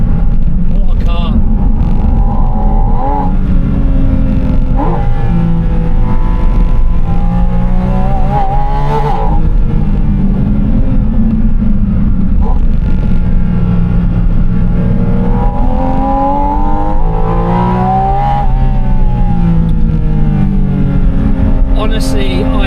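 A Porsche 718 Spyder RS engine revs and accelerates through repeated rising and falling pulls, heard loud from inside the car while driven, with a voice talking over it.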